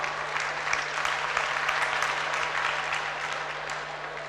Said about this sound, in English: Can't you give him a round of applause?